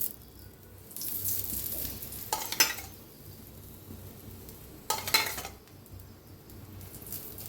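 Aloo paratha sizzles in oil on a pan, a soft steady frying hiss broken by two brief bursts of louder crackling and spatula scraping, with no talk.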